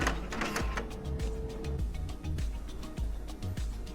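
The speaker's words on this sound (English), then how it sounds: "The printer will now pull the adhesive card in and run it through the length of the printer and up into the vertical option." An Entrust CR805 card printer pulls an adhesive cleaning card through its length, giving close mechanical whirring with rhythmic clicks and short motor pulses.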